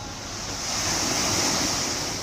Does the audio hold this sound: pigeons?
no